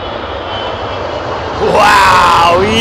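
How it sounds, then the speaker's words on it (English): An airliner's engines roar at touchdown at Heathrow Airport, a loud, close rumble that swells with a rising whine partway through. "That was a cool shot of the undercarriage touchdown"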